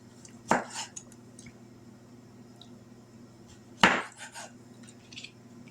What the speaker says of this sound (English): we're just going to slice these in some little thin slices to go on these cheeseburgers